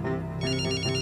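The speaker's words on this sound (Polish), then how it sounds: "Jest, jest telefon." A telephone rings on a Polish television quiz show, a bright electronic ringtone warbling continuously through the brief moment, close and loud with no talking.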